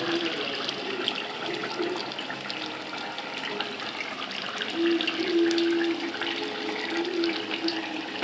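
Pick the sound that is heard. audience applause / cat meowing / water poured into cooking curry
water poured into cooking curry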